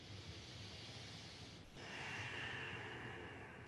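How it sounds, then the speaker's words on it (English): Long, deep yogic breathing through the nose during a Kundalini practice, a soft close airy hiss that shifts into a stronger, brighter inhale partway through. "Long, deep breathing."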